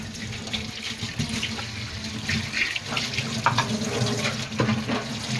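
Tap water pours steadily into a kitchen sink during washing, a continuous close splashing rush with small shifting splatters as the stream is worked, no voices over it.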